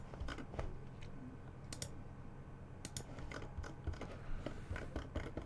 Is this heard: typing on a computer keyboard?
yes